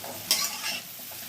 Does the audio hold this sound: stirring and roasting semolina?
yes